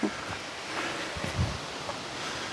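Wind moves through the leaves of an old forest in a soft, steady rustle, faint and airy, with a few light knocks and gusty swells.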